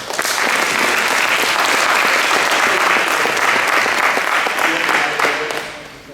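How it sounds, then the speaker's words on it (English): Sustained, loud applause fills a board of education meeting as an audience claps for students, a dense wash of hands that holds steady for several seconds before tapering off at the end. "So if you will help me give them one more round of applause."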